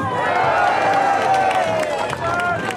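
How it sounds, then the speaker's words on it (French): A TV game show audience applauds steadily, a dense wash of clapping with a murmur of voices mixed in. "qu'on applaudit"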